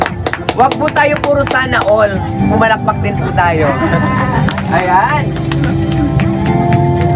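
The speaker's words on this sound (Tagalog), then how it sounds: "Pumalakpak din po tayo." Clapping from a small crowd at an outdoor birthday car-trunk surprise for a mother in Pagatpat, Calabanga, with a steady patter of hands running under loud talking throughout.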